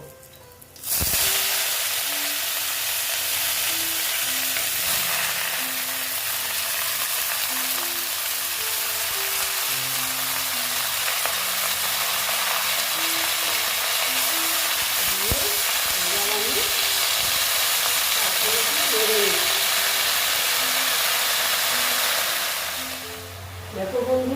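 Bottle gourd greens hit hot oil tempered with black cumin and sizzle loudly, a dense, steady hiss that starts abruptly, holds for about twenty seconds and fades near the end, with faint stirring beneath.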